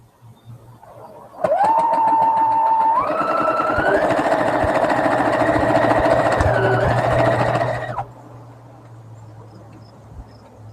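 A sewing machine stitches a quilt seam in one loud, continuous close-up run of several seconds, its whine stepping up in speed partway through, then stopping abruptly into quiet.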